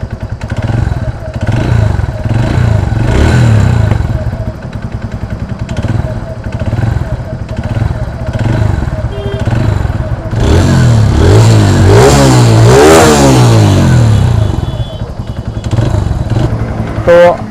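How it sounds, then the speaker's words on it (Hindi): A TVS Radeon BS6 motorcycle engine with worn piston rings idles up close with a rough, clattering piston knock, then revs hard and winds up and down before settling back to idle. Speech is heard faintly under the engine. "इसके अंदर से जो है पिस्टन की साउंड आने लग गई है"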